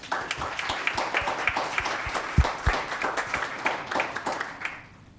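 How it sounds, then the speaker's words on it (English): A town council meeting audience claps for several seconds, a dense crowd applause with sharp individual claps up front that fades out at the end. "Another round of applause."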